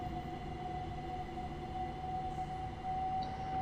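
A train runs in the Train Sim World 6 video game on PC, a steady droning engine rumble with a sustained tonal whine, moderately loud and continuous with no talk.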